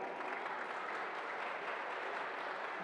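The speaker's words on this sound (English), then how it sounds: "So big round of applause for these two families." At an Independence Day celebration in Knoxville, an audience applauds two families, heard as a faint, even, continuous wash of clapping from a distance, without distinct individual claps.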